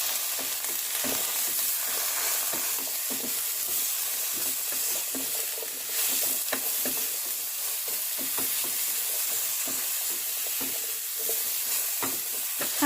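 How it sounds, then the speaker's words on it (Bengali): Neem leaves fry in a pan on high flame with salt and turmeric, a continuous bright sizzle dotted with crackles and the scrape of stirring, fairly close and without talk. "খানিকক্ষণ হাই ফ্লেমে ভেজে নেওয়ার পর নুন আর হলুদ দিয়ে"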